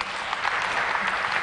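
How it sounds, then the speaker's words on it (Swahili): Audience applause for panelists at a national tax conference, a steady wash of many hands clapping close and full for about a second and a half, with no voices over it. "Naomba kwa mara nyingine tuwapigie makofi"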